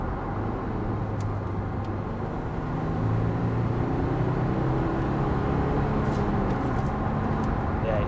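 A Volkswagen Amarok 3.0 TDI V6 with a manual gearbox drives along, its steady engine and road rumble heard from inside the cab, the drone rising in level partway through as it pulls after a gear change.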